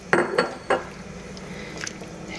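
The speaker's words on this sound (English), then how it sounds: "then I'm going to stir that around" Shredded taquito meat stirred around in a pot, a few distinct scraping clinks of a utensil against the pot near the start, then quieter soft movement and a faint clink near the end.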